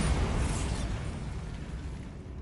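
A loud, dense burst from the Bombarda blasting spell in a video game, a rumbling explosion that fades over about two seconds.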